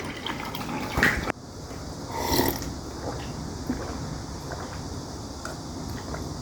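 Cold water is poured into a cup for drinking after a meal of Gangneung-style fried chicken. There is a close splash, then a steady light trickle and fill that runs on quietly, with no one talking.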